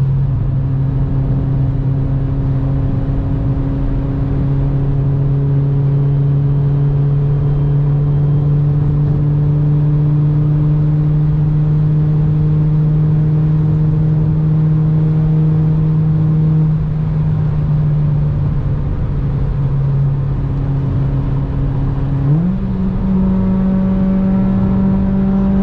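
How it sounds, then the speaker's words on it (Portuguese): Volvo cars accelerating on a road give a loud, continuous engine drone that climbs slowly in pitch, with a sudden shift and renewed rise near the end. "Esses caras dessas Volvo adoram acelerar"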